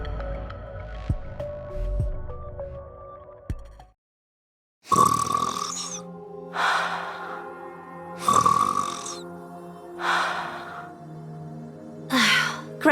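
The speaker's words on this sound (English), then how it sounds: "Ave's snoring is goddess level" A character snores in the video game NIKKE with loud, drawn-out, rumbling snores that repeat every couple of seconds after a short silence, preceded by a quieter stretch of soft game audio.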